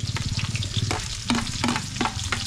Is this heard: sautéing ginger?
yes